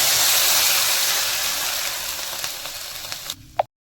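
Water poured into a hot pan of golden-fried semiya upma base, a loud hissing sizzle that gradually fades, ending with a few small bubbling pops.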